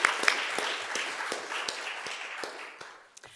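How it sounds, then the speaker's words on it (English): Church congregation applause greeting new visitors at a Sunday service, a moderate round of clapping with a few distinct sharp claps standing out near the front, gradually thinning over a few seconds. "it is our tradition to welcome new visitors with a hearty, welcoming round of applause"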